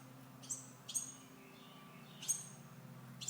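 Baby birds in a garage give a few faint, high chirps in short clusters over a quiet room hum.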